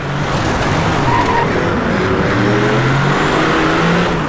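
A car in the racing game Driveclub skids after an impact, its tires squealing loudly and continuously for several seconds over a steady engine roar.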